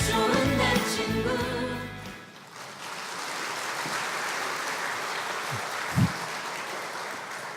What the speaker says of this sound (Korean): 저 영상 마지막에 박수 짝짝짝 있죠.